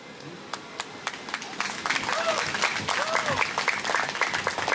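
An audience breaks into applause, the clapping building from scattered claps into a fuller, louder wave that continues to the end, with some voices mixed in.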